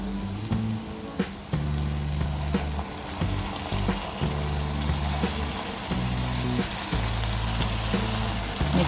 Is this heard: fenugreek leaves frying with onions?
yes